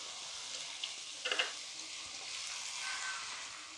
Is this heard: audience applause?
no